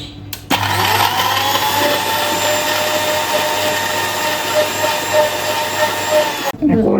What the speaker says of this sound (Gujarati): મિક્સર ચાલુ કરીશું